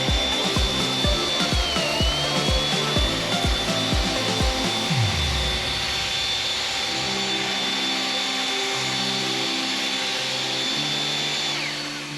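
Two battery-powered leaf blowers, a Toro and an Ego, run with a steady high-pitched motor whine and a broad rushing airflow roar. The blowing stays loud and continuous throughout, with knocking and shifting noises early on and no talk.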